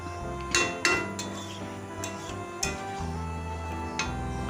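A metal spoon clanks and scrapes against a pan while marinated chicken is mixed with red chili powder and burnt chili seeds, giving a few sharp knocks over a low steady hum.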